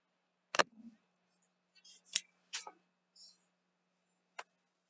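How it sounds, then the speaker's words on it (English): Packing tape being cut and pulled loose while a heavily taped cardboard box is opened: a few sharp snips and rips with quiet rustling in between, then a single crisp click near the end. "We're just opening up this box."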